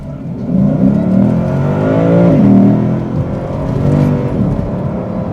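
A 2024 Lexus IS 500 F Sport accelerates hard on an open road, its engine rising steadily in pitch through the gears with a loud, continuous growl and a brief dip at a shift, heard from inside the car.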